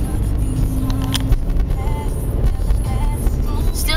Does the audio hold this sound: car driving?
yes